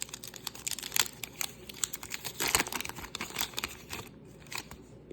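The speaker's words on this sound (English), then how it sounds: "So we'll start out with 1990 Fleer American 15 card wax pack." A 1990 Fleer 15-card American baseball wax pack being torn open, with close, irregular crinkling and tearing of the wrapper in quick bursts, faint and without talk.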